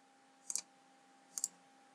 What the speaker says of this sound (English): Now we'll click on OK.